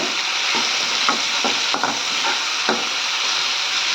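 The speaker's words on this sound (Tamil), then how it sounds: "இந்த குடமிளகாவும் இதில் சேர்த்துக்கிறேங்க" Finely chopped capsicum frying in a pan for a potato thokku, a loud continuous hiss of sizzling oil with soft, irregular stirring scrapes throughout.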